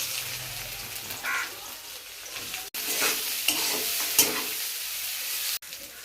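Boiled food fries in oil in a pan with a steady, close sizzle, stirred now and then with scraping, over several seconds with brief breaks.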